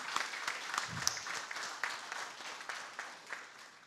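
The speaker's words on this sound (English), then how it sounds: "A round of applause for them," A commencement ceremony audience applauds in sustained, fairly distant clapping, an even crackling wash with occasional louder claps and a low thump.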